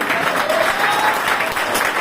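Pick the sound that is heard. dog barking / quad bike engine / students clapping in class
students clapping in class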